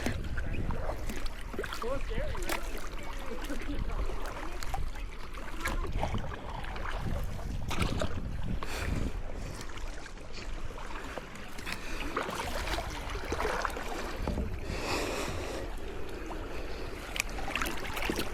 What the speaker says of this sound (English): and we're kayaking.